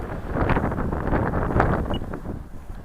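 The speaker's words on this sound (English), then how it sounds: "Not with this much wind." Strong, steady wind roars across an open airfield, buffeting the microphone with continuous rushing gusts that swell and ease over a few seconds, loud and close with no voices.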